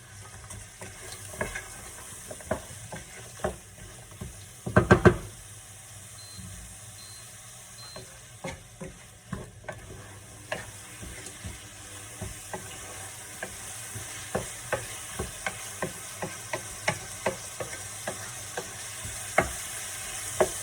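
Chopped leeks and bell pepper sizzle steadily in a pan while a utensil stirs and scrapes, sending out sharp clicks and knocks at irregular intervals. The loudest clatter comes early, and there is no talking.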